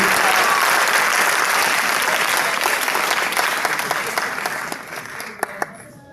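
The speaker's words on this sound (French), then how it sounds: "On les acclame très fort, les membres du jury." An audience at a choir competition in Brazzaville cheers the jury members with loud, dense applause that gradually thins out into a few scattered claps near the end.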